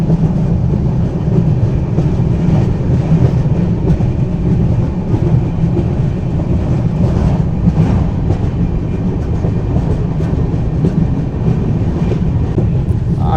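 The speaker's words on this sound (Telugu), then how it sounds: "అపోజిట్ బ్రిడ్జ్లో వెళ్తుంది కదా ట్రైన్" Ratnachal Express crosses a bridge over the Godavari River in heavy rain, a loud, continuous low rumble and clatter of wheels on rails and bridge spans, steady and near for the whole stretch.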